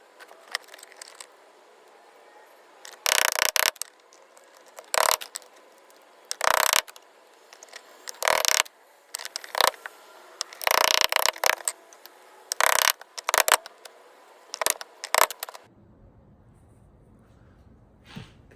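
Screws being turned to assemble mud flaps for a Jeep Gladiator give bursts of ratcheting clicks, about a dozen short loud runs spaced irregularly over a quiet background, close to the microphone.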